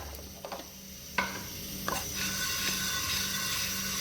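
Ingredients being roasted in a frying pan, a steady sizzle under short scraping stirs and a couple of sharp clinks from the utensil against the pan.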